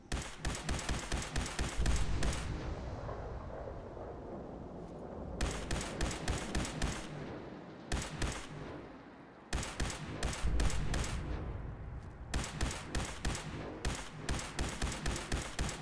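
Fallout 4 gunfire comes in loud bursts of rapid automatic shots separated by brief pauses, repeating across the whole stretch with no talking.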